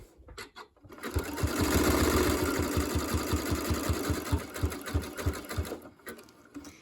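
A sewing machine runs a zigzag stitch along a quilt binding edge, a fast, steady mechanical chatter of needle strokes close by that starts, holds for several seconds, then stops.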